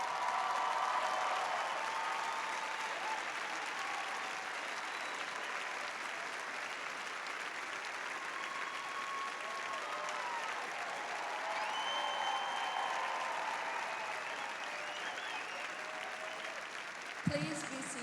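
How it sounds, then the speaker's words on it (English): Sustained applause from a large crowd at the Gonzaga senior commencement, honouring teachers and mentors seated in the front rows, a steady broad wash of clapping lasting throughout and thinning slightly near the end. "a round of applause for your teachers and mentors who are seated in the front rows on the floor."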